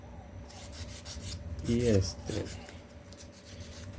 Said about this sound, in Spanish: solamente en algunas pequeñas zonas voy a pasar esta lija